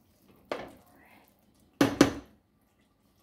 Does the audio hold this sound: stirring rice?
yes